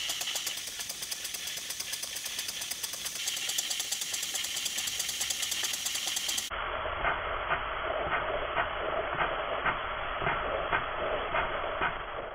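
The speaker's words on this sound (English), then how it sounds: "The first stationary engine I ever built was a Stuart Victoria" A small model stationary steam engine, a Stuart Victoria, runs steadily with a continuous hiss and rapid, even mechanical chuffing, close by and with no voices.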